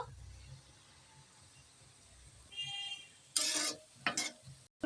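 Bitter gourd with small shrimp stirred in a frying pan: after a quiet stretch, two brief scraping strokes of a spatula stand out close and sharp, with faint sizzling between.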